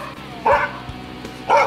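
Dogs bark in the snow while playing with a ball: two loud, close barks about a second apart, with a faint thump between them and quiet outdoor background.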